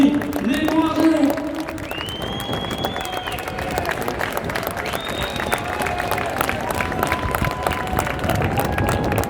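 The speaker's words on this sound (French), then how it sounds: "Sous vos applaudissements, s'il vous plaît" A crowd applauds on the Brussels Grand Place during the Meyboom festival, sustained clapping and hubbub, while a voice speaks over it.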